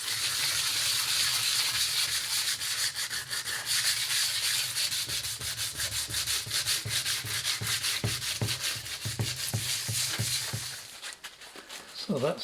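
Carbon fibre panel being sanded with 120 grit sandpaper: steady, close scraping strokes in a continuous rhythm that grow more distinct and separated toward the end, with faint low background noise underneath.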